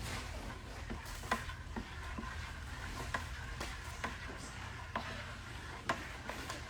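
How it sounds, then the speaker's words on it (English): A spoon stirs a homemade dark vanilla cream soda mixture, making quiet clinks and scrapes at irregular intervals over faint background noise. "So then you're just gonna give that a stir."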